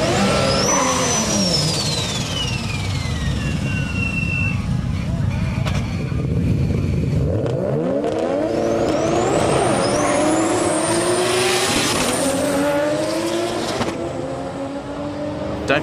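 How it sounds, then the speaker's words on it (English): A car doing a burnout at HKS street drags: loud engine revving and rising, falling whines with screeching tones over a constant roar, and voices talking and shouting amid the noise. "do a burnout."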